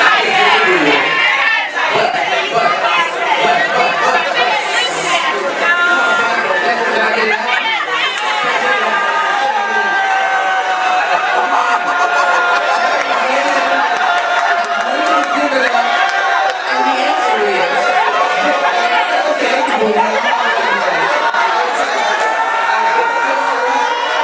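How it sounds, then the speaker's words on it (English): A comedy audience reacts loudly to a comedian's set, a dense, sustained wash of crowd voices, jeering and shouting heard through a played recording, steady and close for the whole stretch. "Yeah, they booed me."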